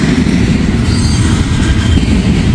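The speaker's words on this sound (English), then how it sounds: "Stack train." A double-stack freight train rolls past on the line between Fostoria and Deshler, a loud, steady rumble of wheels and cars filling the whole moment without a break.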